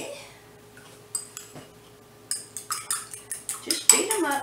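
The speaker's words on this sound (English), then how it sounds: "Just beat them up." A fork beats eggs in a bowl for homemade slider burgers, starting with a few scattered taps and then settling into a quick, even series of sharp clinks and scrapes, close and clear, with a brief bit of voice near the start.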